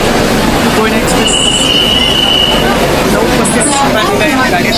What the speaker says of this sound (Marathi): आपण पोहोचलो आहोत कल्याण जंक्शन. मागे आपली गाडी आणि आपली गाडी कोयना एक्सप्रेस